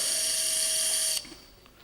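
A power drill whines steadily and loudly while driving a K-wire into a calcaneum bone model, then cuts off abruptly, leaving quiet room tone with faint handling.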